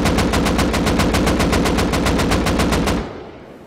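An AK rifle without a muzzle brake fires a sustained automatic burst in the Rust video game, with about twenty evenly spaced loud shots over three seconds, then a fading tail.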